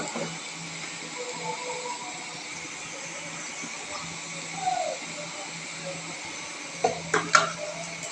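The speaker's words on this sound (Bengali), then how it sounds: "দারচিনি এলাচ লং দিয়ে নাড়াচাড়া করছে এরপরে দিয়ে দিবে তেজপাতা" A pot of cinnamon, cardamom, cloves and bay leaf being stirred for a chicken and potato curry gives a faint steady hiss, with a few soft clinks of a utensil against the pot near the end.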